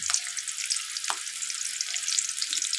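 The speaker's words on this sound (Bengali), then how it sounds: "করইতে তেল দিয়ে দিছি আর এই পেঁয়াজগুলো দিয়ে দিতে আছি" Onions frying in hot oil in a karai (wok), a bright, dense, continuous sizzle heard close up, with a couple of soft knocks as pieces drop in, and no voices.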